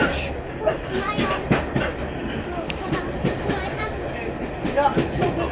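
Carriages of the Paignton steam train rolling on rails, a steady rumbling clatter with regular clickety-clack beats, heard from inside the train with faint background voices.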